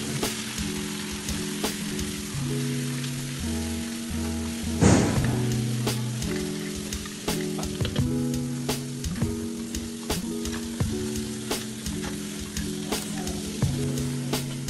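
Roughly chopped onion fries and browns in a pan with a continuous hissing sizzle and occasional stirring clatter, one sharper scrape near the middle, all beneath steady background music and no speech.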